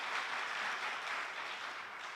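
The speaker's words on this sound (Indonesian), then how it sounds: "Beri tepuk tangan lagi buat Tuhan Yesus." A church congregation at a Sunday worship service in Batam applauds steadily, a dense, continuous wash of many hands clapping at even loudness throughout, with no talk over it.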